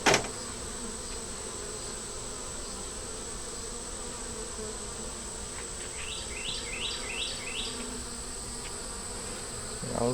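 Honeybees drone steadily around a nuc hive box during a check on beetle control, a dense close buzz running throughout, with a few faint bird chirps breaking through near the middle.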